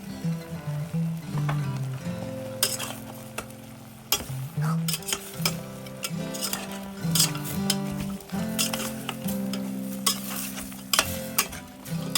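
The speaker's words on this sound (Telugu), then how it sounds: "ఇప్పుడు 750 గ్రామ్స్ ఆఫ్ మటన్ తీసుకున్నాం కదా, అది కొంచెం నీరు పోయేంత వరకు వేగనివ్వాలి" Mutton, 750 grams, frying in a pot for Hyderabadi haleem while it cooks off its water, with a soft sizzle under repeated metallic scraping and stirring of a spoon against the pot, close and uneven.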